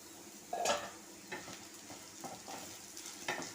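Bitter gourd pieces frying in a pan as a soft, steady sizzle, broken by a few scattered utensil scrapes and stirring knocks, fairly quiet and with no talking.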